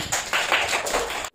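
Children clap in a classroom, producing a short run of about four or five sharp, close hand claps in quick succession that end abruptly.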